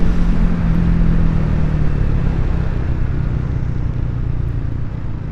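A Triumph Speed 400 motorcycle ridden on the road, its engine a loud, steady low rumble with a humming drone that eases gradually as the bike slows under braking.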